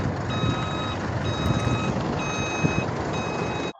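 Trucks at a driving test ground sound steady reversing beeps, four evenly spaced tones over a rumbling engine, loud and continuous without talk.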